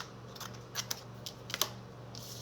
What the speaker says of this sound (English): So let me just cut this to the right length.